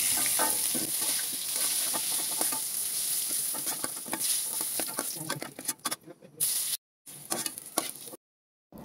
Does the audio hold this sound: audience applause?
no